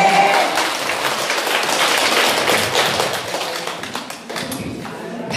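Audience applause in a singing class at an agricultural cooperative event, a dense, steady wash of many hands clapping close by for the full length, fading slightly near the end before swelling again.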